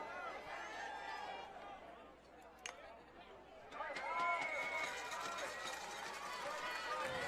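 Crowd at a regional baseball finals game: broad, distant cheering and chatter from the stands, rising louder in the second half, with a commentator talking over it.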